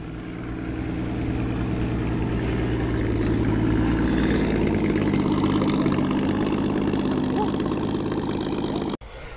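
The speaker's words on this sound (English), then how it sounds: "Six-cylinder PA Cresta, lovely burble there." A six-cylinder Vauxhall PA Cresta idles with a steady, deep burble close by at a classic car show, running evenly for about nine seconds before cutting briefly near the end.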